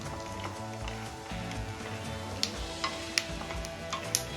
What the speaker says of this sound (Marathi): इथे आपल्याला गोल्डन कलर येईपर्यंत शेंगदाणे तळून घ्यायचे आहे